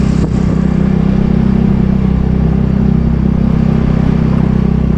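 A motorcycle is ridden toward town, its engine droning loudly and steadily up close with a rough, continuous low rumble and wind noise.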